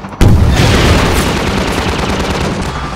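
Loud, dense burst of gunfire in the Half-Life 2 video game, starting abruptly with a sharp blast and continuing as a sustained, roaring barrage of overlapping shots and booms with no voices.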